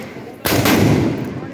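A Diwali firecracker goes off in one loud, sudden blast that fills the air and holds as a dense roar for about a second, heard close by.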